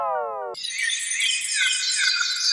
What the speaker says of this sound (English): nice white noise club riser.